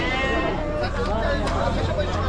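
Sheep bleat amid a busy livestock market in Shirur, mixed in with goats and steady crowd chatter; the bleats are muffled and keep rising from the background hubbub.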